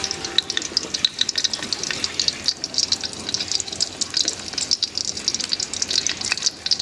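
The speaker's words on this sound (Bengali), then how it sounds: "তেল দিয়ে দিলাম এখন দিয়ে দেবো শুকনো মরিচ" Dried red chillies sizzle and spit in hot oil in a home kitchen, a steady close crackling hiss with dense popping that runs throughout without talk.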